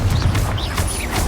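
Confringo fire spell blast in the Hogwarts Legacy video game, a short burst of crackling impact noise with rumbling low end and brief chirps, with no speech.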